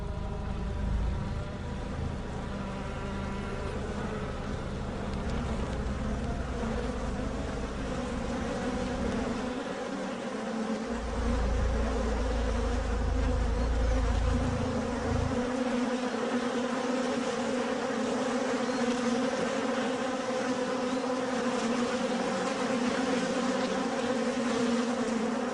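A swarm of honeybees fills a hive with a dense, continuous buzzing drone, steady and close, with a deeper rumble swelling and fading beneath it.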